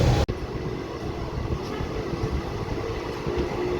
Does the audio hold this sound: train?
yes